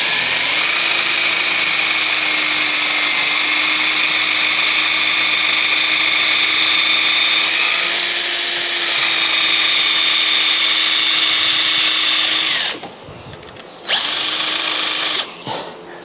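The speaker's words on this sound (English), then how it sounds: "drill completely through this handle and put a bolt completely through it" A power drill bores through a wooden push broom handle, whining steadily and loudly for about twelve seconds, its pitch dipping slightly midway, then stops and starts again briefly before cutting off.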